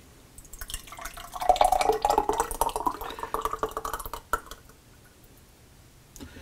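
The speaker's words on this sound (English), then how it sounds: "I'm just going to pour that into a mason jar." Thick homemade pizza sauce is poured into a glass mason jar, a nearby wet glugging and trickling that swells, then thins to a few drips, with a sharp clink near the end.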